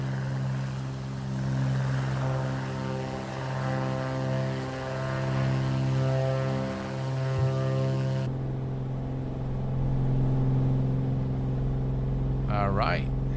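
Black Square Bonanza propeller plane departing Swansea in MSFS 2024, a steady droning engine and propeller hum with strong harmonic tones throughout, loud and close, with a voice talking over the first part.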